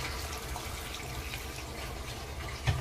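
Water pours from a tap into a pot of chicken curry with potatoes, a steady soft splashing and running stream throughout, close but fairly quiet.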